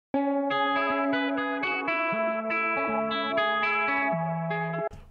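A bright, buzzy synthesized melody with a chiptune-like 8-bit character plays a short run of stepped notes, loud and clean, ending abruptly.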